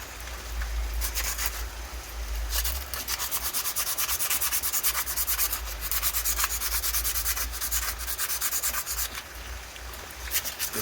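G10 sheet being sanded with a worn-down 60 grit pad, a close, continuous raspy scratching in rhythmic strokes with short pauses between passes.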